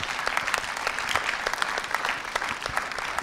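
Studio audience applause on a televised dance-partner selection show: continuous, brisk clapping from many people, close and even in loudness, with crisp individual claps standing out throughout.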